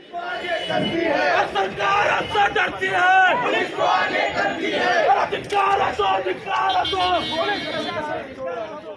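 A large crowd gathered for a protest march toward Azad Maidan, with continuous loud chanting and shouting voices overlapping into a dense roar throughout.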